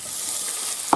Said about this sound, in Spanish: Ahora lo que hacemos es freír el pollo